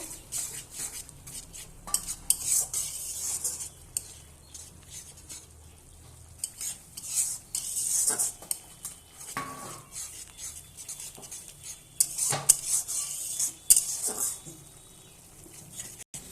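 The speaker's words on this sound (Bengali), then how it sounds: "এবার আমি ভালোভাবে নেড়ে নেব।" Ground turmeric, coriander-cumin and chilli powder are stirred in a pan while cooking whole dal with drumstick stalks: intermittent metal spoon scrapes and clinks against cookware over a faint sizzle, fairly close, no talking.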